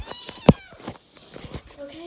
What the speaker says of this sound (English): It was meowing at the top of its lungs.